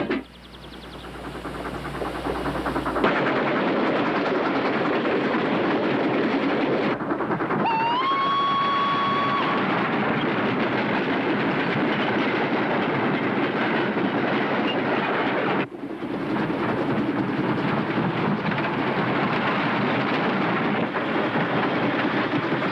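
A train running in a 1978-era caper film scene, a loud continuous rumble of rolling wheels and cars, with a brief rising whistle-like tone and an abrupt cut partway through.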